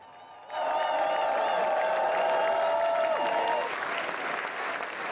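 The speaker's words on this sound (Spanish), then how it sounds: "Recibido entre aplausos por los suyos" Applause rising suddenly and holding steady for several seconds as supporters welcome Austrian president Alexander Van der Bellen after his re-election, with a tonal voice or music line running beneath the clapping crowd.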